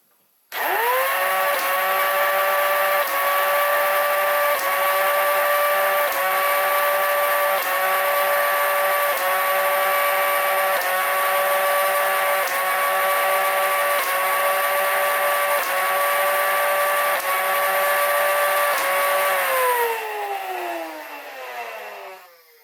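An airsoft gun with a flywheel system fires a long sustained burst during a chrono test, a loud whirring motor hum with rapid repeated shots in a regular rhythm for about twenty seconds, then winding down and fading out.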